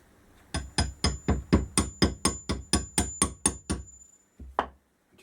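A socket is tapped with a hammer to drive a fork seal down into the fork leg of a 1977 Kawasaki KZ650/Z650 B1 motorcycle: about a dozen close, sharp, evenly spaced strikes, then a pause and one final tap.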